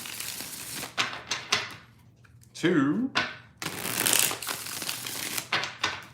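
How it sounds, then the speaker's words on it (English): Tarot cards are shuffled in a few quick riffling bursts close to the microphone, separated by short pauses, with a woman counting aloud between them. "Let's get 3 shuffles here."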